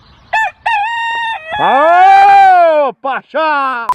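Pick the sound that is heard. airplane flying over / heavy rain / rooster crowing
rooster crowing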